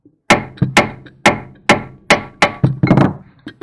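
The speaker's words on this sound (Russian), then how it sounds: "берем молоточек и чуть-чуть пристукиваем" A hammer taps a ball joint into the steering knuckle of a Chevrolet Lacetti, giving about nine sharp, close metallic knocks at an uneven pace with short pauses between them.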